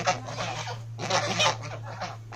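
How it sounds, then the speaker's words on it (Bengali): Several domestic geese honk loudly in overlapping bursts close by in a house courtyard, over a low steady hum. "রাজহাঁস তো এগুলো নাকি"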